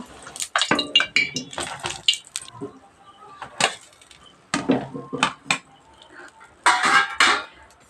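Fried Mughlai parathas are lifted out of hot oil with a metal utensil. Close, sharp clinks and scrapes of metal on the pan come in irregular bursts, with brief quiet gaps and faint drips between them.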